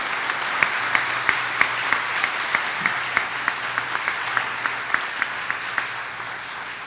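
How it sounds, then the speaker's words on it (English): An audience at an academic convocation applauds faculty members, a steady bed of clapping with one nearby clapper striking a distinct, regular beat over it, holding moderately loud and easing slightly at the close. "one more round of applause for our faculty members who have received"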